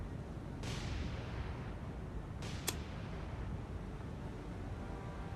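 Warship guns fire at the Nagara in the War on the Sea naval game, War in the Pacific mod: two faint, distant booms several seconds apart over a steady rushing background.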